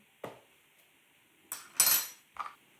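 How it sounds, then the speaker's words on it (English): A metal spoon clinks against a bowl a few times while mixing tikka curry powder into mayonnaise, giving short, separate scraping clatters with quiet gaps between them. "you're going to give that a real good mix, so you need to mix all of that powder into the mayonnaise"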